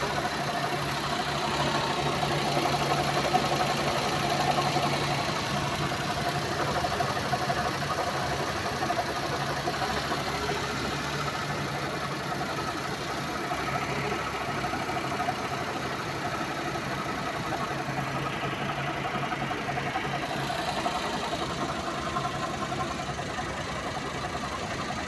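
A car engine idles steadily at moderate level for a long stretch, an even mid-low mechanical hum with faint knocking texture and no talking.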